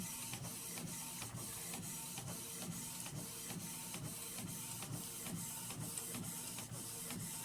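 Photo printer running steadily while printing photos, a continuous mechanical whir with regular rhythmic clicks and feed pulses repeating about every half second, close and even throughout.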